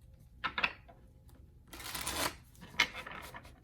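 Tarot cards riffle and snap together in short bursts close by, with a longer shuffle in the middle and quiet gaps between.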